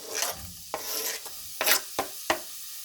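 Onion sizzling in hot olive oil, with a steady frying hiss broken by several sharp scraping stirs of a utensil against the pan, close up.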